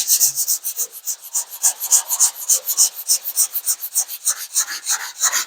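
Hand sanding 2K primer with 180 grit sandpaper, a close, rhythmic scratchy rasp repeating in quick even strokes for several seconds, with no voices.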